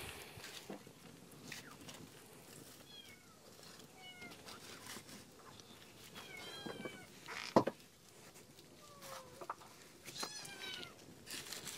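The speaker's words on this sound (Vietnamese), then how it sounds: "con mèo mẹ thì vừa mới đẻ thêm hai con mèo con nữa." A mother cat with newborn kittens in a dim house, thin high mews repeating irregularly over a faint background hum, with one louder knock partway through.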